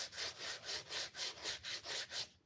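A bevel is worked onto a wooden mallet with long, even rasping strokes, about eight in a steady back-and-forth rhythm, close and bright, with no talking.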